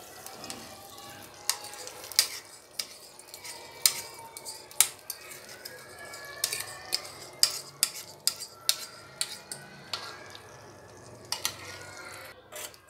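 A spoon stirs cocoa powder syrup into sugar syrup for homemade chocolate syrup, giving a run of close, irregular clinks against the pot over a soft liquid swish, with no voices.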